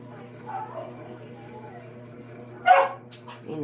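A dog gives a sharp bark late in the clip, followed by a brief yip, close and louder than the person talking steadily beforehand.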